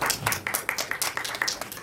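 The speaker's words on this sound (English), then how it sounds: "So one more round of applause." Audience applause at a live event, a short burst of scattered hand claps with distinct individual claps standing out, fairly close and moderately loud.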